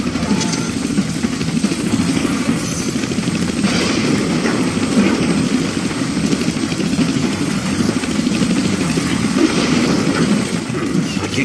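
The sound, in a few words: helicopter flying in the video game Deadpool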